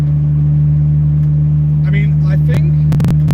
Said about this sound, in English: Even if this car actually currently sounds very loud to you guys